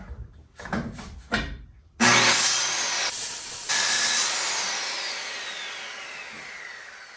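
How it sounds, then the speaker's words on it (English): A circular saw rips through a trim board with one loud, sustained cut that slowly fades, after a few short knocks and handling sounds of the wood. "I'm gonna use my circular saw for this. Cut this up."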